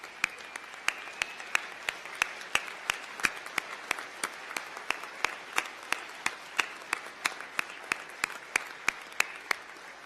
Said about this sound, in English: Let's give them a standing ovation,